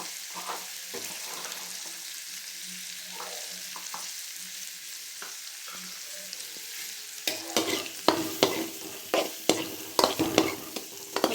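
Cauliflower fried rice frying with chili powder, a soft sizzle under stirring, then louder scraping spatula strokes against the pan in quick irregular bursts, close up with no talking.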